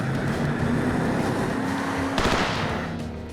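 A car reverses during motorcade driving training, its engine note a steady, loud broadband roar up close with a brief burst of rougher noise partway through.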